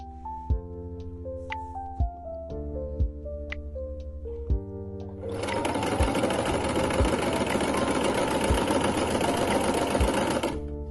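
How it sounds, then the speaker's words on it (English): A sewing machine stitches sleeves onto a bodysuit, with a few slow, evenly spaced thumps at first, then a steady, fast, close mechanical whirr that runs unbroken to the end. "Sewing. Attached with sleeves."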